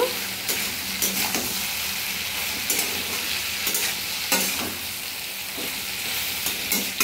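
Ridge gourd and potato fry in a pan with a steady sizzle, broken by repeated scraping stirs of a utensil, close and moderately loud with no talking.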